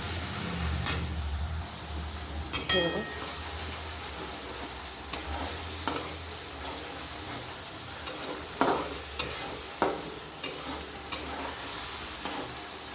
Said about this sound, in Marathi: मस्त छान फ्राय करून घ्यायचं आहे आपल्याला सर्वात पहिले